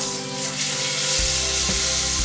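Meat for a roast searing and browning in a hot pan, a loud, continuous close sizzle with a low hum and a couple of soft handling bumps, no voices.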